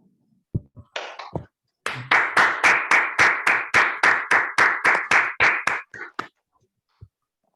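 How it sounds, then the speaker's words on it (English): An online audience claps for a speaker after a mathematics talk, a steady run of about sixteen evenly spaced, crisp claps, close and loud, tailing off into a few scattered claps. "give the speaker a round of applause"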